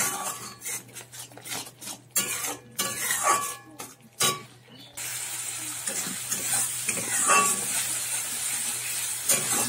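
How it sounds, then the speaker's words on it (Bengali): A spice paste of chilli, cumin and salt sautés in hot oil for a tangra fish curry, with sharp stirring scrapes and clatters against the pan early on, then a steady close sizzle and hiss. "মশলাটা আমি ভালো করে কষিয়ে নেবো"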